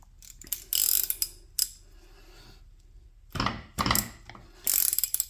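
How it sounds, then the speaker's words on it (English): Ratchet clicks and wrench clanks while removing the nut from a Ford Raptor sway bar link with a hex-head end, coming in a few short close bursts separated by quiet pauses. "I can kind of show you what I was doing with the wrench and the ratchet"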